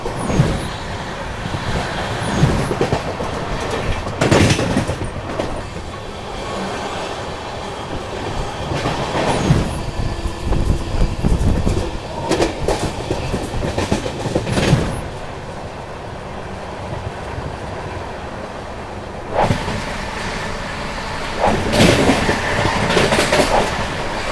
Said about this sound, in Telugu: కడప రైల్వే స్టేషన్ కూడా 5 minutes ముందుగానే చేరుకోవడం జరిగింది మన జయంతి జనతా ఎక్స్ప్రెస్